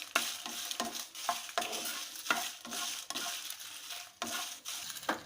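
Red chillies dry roasting in a pan for sambar powder, with steady scraping and stirring strokes repeating through the clip, crisp rustling and faint sizzle, close and alone with no talk.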